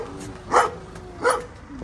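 Puppies at an animal shelter give two short, sharp yaps about a second apart over a low, steady background hum.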